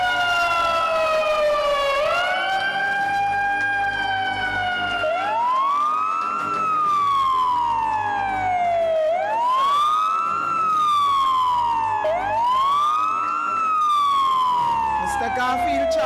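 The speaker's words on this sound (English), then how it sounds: "Blue lights, siren" An emergency vehicle siren wails loudly in repeated rising and falling sweeps at an EMS service anniversary celebration, filling the whole stretch with steady, close sound.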